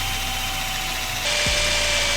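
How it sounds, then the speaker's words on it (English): A power drill bores a hole in a motorcycle handlebar on a Ducati Scrambler Icon, a steady high motor whine that steps up in pitch partway through, close and loud with no talk. "Now we got to drill the hole to locate the control"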